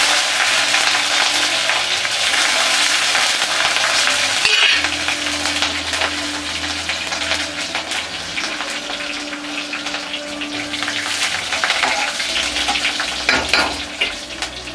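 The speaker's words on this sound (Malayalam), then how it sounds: "അതിലേക്ക് നമുക്ക് കറിവേപ്പിലയും പച്ചമുളകും ചേർത്ത് കൊടുക്കാം." Curry leaves and green chillies hit hot oil for a dhokla tempering, giving a loud, steady, close crackling sizzle with bursts of spattering and no talk.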